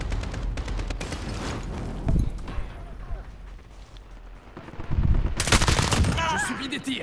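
Automatic gunfire in Call of Duty: Modern Warfare, rapid bursts with a heavy blast and a loud closing volley, a voice talking over parts of it.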